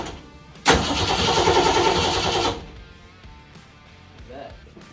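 New engine in a 1966 Ford Mustang cranks and catches, a sudden loud roar that runs rough for about two seconds before cutting out, followed by quiet background and faint voices.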